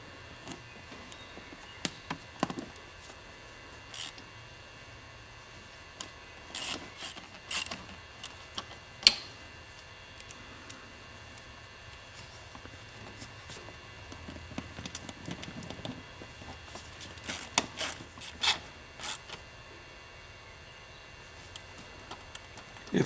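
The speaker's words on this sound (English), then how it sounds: "So I'm using a 1/4-inch drive socket set." A 1/4-inch drive socket ratchet turning small bolts on a Kawasaki Voyager XII motorcycle, making faint, scattered clicks and ticks in short irregular runs against quiet background.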